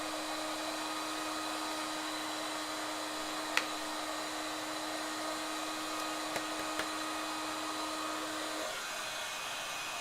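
A heat tool melts white embossing powder on a New Year card, heated from the back, giving a steady loud hair-dryer-like whir that runs unbroken for most of the time, then cuts off near the end with a couple of faint clicks.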